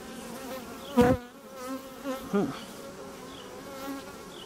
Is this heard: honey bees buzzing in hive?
yes